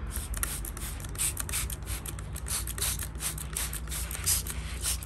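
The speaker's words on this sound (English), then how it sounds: "So all we're going to do is be spraying it, especially down around the base." Diluted hydrogen peroxide solution sprayed from a hand spray bottle around the base of an orchid, a series of short hissing bursts in quick irregular succession, close and soft.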